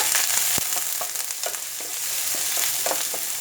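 Garlic, green chilli and curry leaves sizzle steadily in a pan at close range, a fine crackling hiss broken by scattered clicks of stirring, with no talk.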